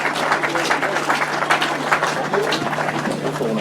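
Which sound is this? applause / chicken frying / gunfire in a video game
applause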